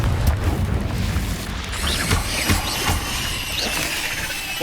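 A Confringo explosive spell blast in the video game Hogwarts Legacy: a dense roaring boom with scattered crackling bursts and shattering debris, loud and continuous through the whole stretch.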